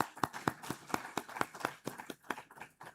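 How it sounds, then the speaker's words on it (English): A conference audience applauds a speaker at a live-streamed insurance association event, a moderate burst of clapping with distinct sharp claps standing out in an irregular rhythm, heard without talk over it. "let's give him a huge round of applause"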